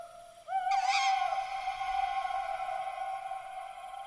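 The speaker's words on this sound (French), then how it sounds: "Battant des ailes avec enthousiasme, le hibou s'envola en chantant gaiement." An owl hoots once in a folk-tale narration, a clear tonal call with a wavering rise that rings on and slowly fades over a quiet background.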